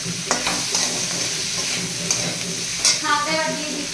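Boiled greens are stir-fried in a pan with a continuous sizzle and brisk scraping and stirring strokes, loud and close, with a few sharper clinks of the utensil.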